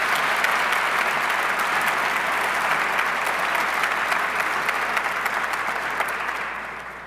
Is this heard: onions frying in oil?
no